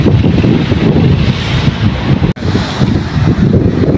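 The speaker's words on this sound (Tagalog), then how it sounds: "Lakas ng hangin, guys." Strong wind buffets the microphone outdoors in Münster, Germany, in a loud, continuous roar, with a brief dropout partway through and no talking.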